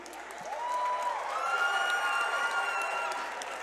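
Arena crowd at a fight event applauding and whooping after a hard three-round bout, a sustained roar of clapping and shouts with scattered high whistles rising and easing, heard from within the crowd.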